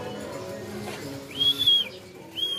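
Racing pigeons coming home to the loft during a race lap in Gumaca, Quezon, with faint short calls and a soft flutter over quiet room tone, fairly distant.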